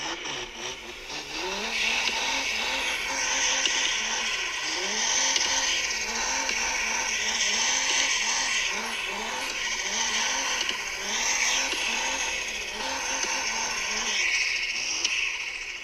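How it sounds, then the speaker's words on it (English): A DR!FT toy turbo car with a simulated 1000 brake horsepower engine revs and screams around a playful track, its rising and falling engine note and whistling turbo cycling rapidly and continuously, with tire squeal throughout. "I love this 1000 brake horsepower turbo car. I think it's one of the best sounding ones with the turbo going crazy like that."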